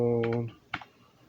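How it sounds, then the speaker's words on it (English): A few keystrokes tapped on an Astrohaus Freewrite typewriter-style keyboard, close and crisp, with a couple of clicks standing out after a short voiced hum. "Now we're going to turn this on and see how the typing's working."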